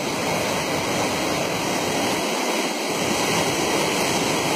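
Waterfall at Cachoeira do Brejo in Bahia, a dense, constant roar of heavily falling water filling the whole clip at steady loudness, with nothing else audible.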